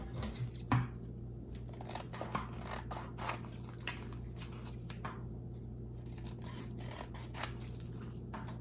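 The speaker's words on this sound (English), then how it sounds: "Our final step is to trim around the border." Scissors trim around the border of a paper confetti bookmark, making a quick run of crisp snips and short slicing rasps over a low steady hum.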